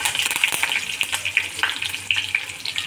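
Curry leaves and crushed garlic crackle in hot oil for cabbage bhaji, a close, busy sizzle full of rapid pops and spits, with a light stirring scrape underneath and no speech.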